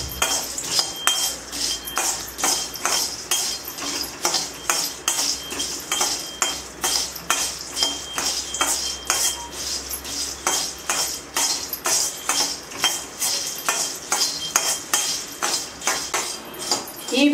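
Cardamom pods roast in a thin pan while a spoon stirs them, making rapid, regular scraping clinks of metal on metal that repeat steadily, with no voices.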